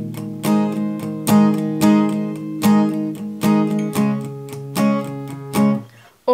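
An acoustic guitar is down-strummed through the chords of a song, with ringing, evenly spaced chord strokes in a steady rhythm, close and clear, with no talking.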